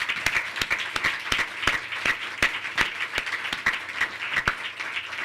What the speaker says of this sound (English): can we please give them a round of applause